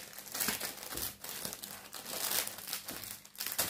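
Plastic cake kit packaging is cut open close by, producing quiet, continuous crinkling and crackling with brief tearing rustles in irregular bursts.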